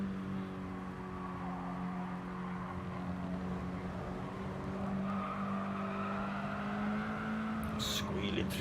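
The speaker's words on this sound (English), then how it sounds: "Squealing through there, cars firing off in all different directions when they actually gain traction." Mini Cooper race cars in a Chewitt Racing Mini Cooper Cup round at Tsukuba, engines droning steadily with tires squealing as they fight for traction, a commentator talking continuously over the track noise.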